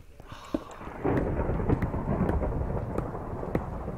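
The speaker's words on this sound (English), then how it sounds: "Never mind, that was lightning." Thunder from a lightning strike in Minecraft rumbles steadily for several seconds with a few sharp crackles, mixed with a rain-like hiss, moderately loud and with no talking.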